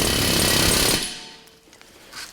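A pneumatic vibrating tool hammers on a BMW 330d E92 suspension to knock the ball joints loose, a loud continuous rattling burst close by that cuts off after about a second, leaving faint workshop noise.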